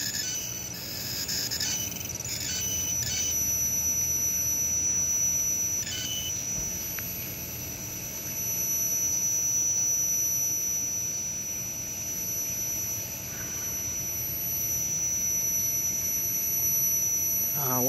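An SCX24 RC crawler with an 1100kv outrunner motor and model 05 gearing gives a steady, high-pitched electric whine with faint, changing tones, running continuously and fairly close without any talk.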